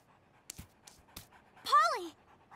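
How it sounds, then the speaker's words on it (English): A cartoon puppy pants in a few quick, short breaths, then lets out a brief, high, whining yip close by. "Get that filthy mutt away from me!"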